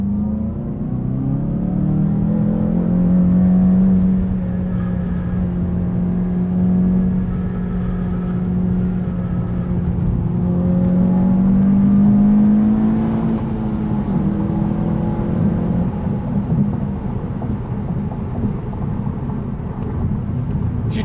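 A 2020 Volkswagen Golf GTI with six-speed manual pulls hard on a concrete autobahn, its engine note climbing steadily and loud from inside the cabin amid road and wind roar, with no talking.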